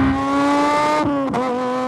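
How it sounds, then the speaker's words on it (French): Jean-Louis Schlesser's number 10 race car launches from the start, its engine whining loud and close as it revs, briefly dips at a gear change, then pulls hard again. "c'est Jean-Louis Schlesser qui vient de prendre le départ à bord de son bolide"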